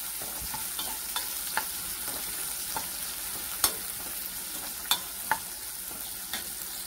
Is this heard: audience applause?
no